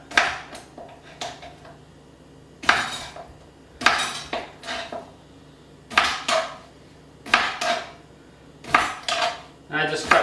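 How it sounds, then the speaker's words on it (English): Variegated crinkle cutter slicing through a cucumber on a board, sharp clattering cuts in irregular pairs and bursts, each strike followed by a brief ringing decay, close and fairly loud. "And I just cut through the cucumber."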